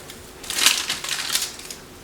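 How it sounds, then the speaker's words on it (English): Ginger cookie dough balls being pressed flat with the bottom of a glass, giving a run of close, crisp crunching and tapping sounds over about a second and a half, with no talking. "we're going to use the bottom of a glass to smash these down."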